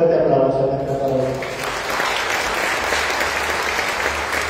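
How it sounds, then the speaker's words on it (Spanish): Loud applause from a large crowd at a religious novena for Santa Ana, starting as a voice trails off and then swelling into steady, sustained clapping that fills the rest of the moment. "Le brindamos un fuerte aplauso a nuestra palabra."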